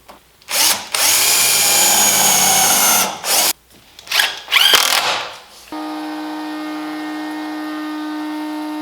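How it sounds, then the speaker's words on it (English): Handheld router with a flush trim bit trimming the wood edge of a torsion box assembly table, loud whining bursts with brief stops, then a steady motor hum winding down, close. "I'm going to run my router along here and just with a flush trim bit and flush it up"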